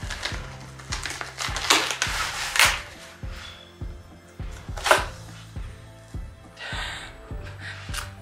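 A cardboard subscription box of collectible merchandise is cut and torn open, with scattered scraping, rustling and crinkling bursts over a steady low hum, close and moderately loud with no talking.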